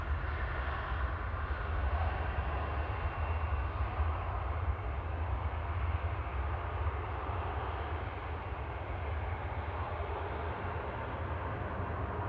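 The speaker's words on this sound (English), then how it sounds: "Jet2's LS852 coming in from Funchal there, A321neo, G Sun H." A Jet2 Airbus A321neo arriving at Manchester Airport, heard as a steady, broad engine roar that holds at an even loudness throughout, with no voices.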